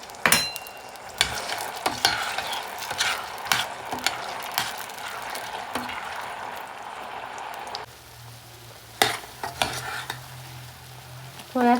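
Oil for a homemade hair oil heating in a pan with black cumin and fenugreek to be added, giving a steady crackling sizzle broken by repeated clicks and scrapes of stirring.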